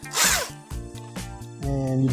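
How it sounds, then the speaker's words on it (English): A power drill grinding metal while porting a small block Chevy Vortec cylinder head whirs in short bursts, speeding up and slowing between runs, close by with a grinding edge. "I'm gonna go to my handy dandy drill."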